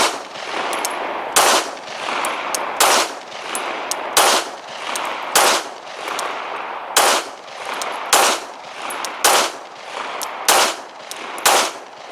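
Around a dozen sharp, loud shots from 9mm M&P Shield and Glock 19 pistols firing Remington ammunition ring out at a fairly even pace of roughly one per second, each followed by a short echo tail.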